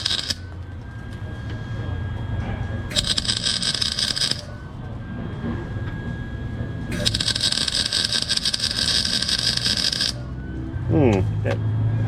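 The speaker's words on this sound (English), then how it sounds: "tack it on, and then weld the crap out of it" A MIG welder tacks a nut onto a badly stripped oil drain plug on a Jeep Wrangler 3.8. Two long, close, loud buzzing crackles of arc welding are separated by a pause, with someone talking briefly.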